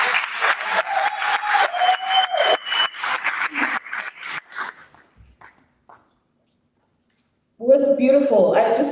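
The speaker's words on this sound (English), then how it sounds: "Can we just give another round of applause to the poets that are great?" A small audience at a poetry closing event claps in a dense burst of applause that thins into scattered claps and fades to silence, after which a voice speaks close to the mic.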